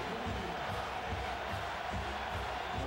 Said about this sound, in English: the crowd making a lot of noise here at Neyland Stadium